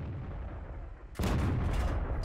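A tank cannon fires in the World of Tanks video game, a single loud, broadband boom cutting in sharply after a quiet stretch and sustaining a rumbling tail.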